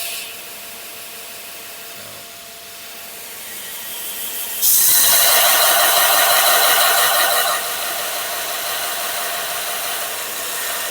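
A vacuum with a water container runs in a workshop, a steady low whir that jumps to a loud rushing roar midway and then settles slightly lower.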